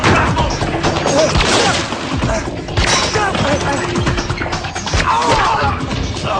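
Rapid gunfire rattles loud and dense through a tense escape scene, shots overlapping with crashes and frantic shouting voices throughout.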